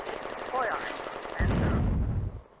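Rapid machine-gun bursts and gunfire crackle in a WWII Eastern Front battle in the Firefight video game, louder and heavier low booms of mortar fire joining in the second half, with a faint voice underneath.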